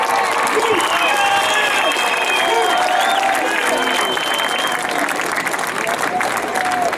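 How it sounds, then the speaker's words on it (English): A large outdoor crowd at a Baltimore protest rally at City Hall Memorial Plaza applauds and cheers loudly. Continuous clapping mixes with shouts and whoops, and voices carry through the steady roar. "Let's give Baltimore a strong round of applause."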